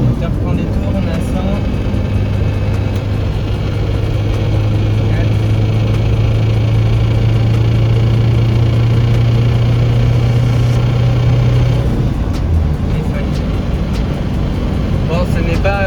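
A Peugeot 205 engine drones loudly while the car drives along, the steady mid-pitched hum rising slightly as revs build, with a tonal whine holding for several seconds before dropping off near the end.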